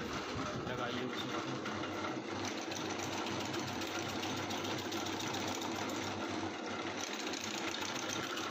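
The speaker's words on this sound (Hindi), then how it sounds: "बिल्कुल साइलेंट मशीन है, चालू करना मशीन" An areca nut (supari) cutting machine for all types of cuts runs continuously with a steady mechanical whir and rapid rhythmic clatter, loud and unbroken throughout.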